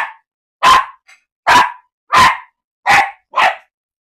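Five loud, sharp barks from a dog named Cookie at feeding time, spaced about a second apart and close up, with only quiet room in between.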